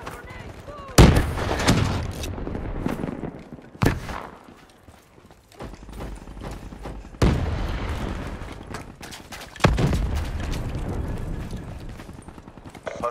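Frag grenade explosions and gunfire in a Call of Duty Kill Confirmed match on the Combine map: several loud booming blasts separated by seconds, with game voice callouts and talk mixed in.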